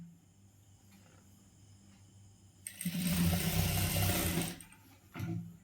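A sewing machine stitches the shoulder seam of a chudidar, a close whirring burst of rapid needle strokes lasting about two seconds, then a brief short run, with quiet pauses around it.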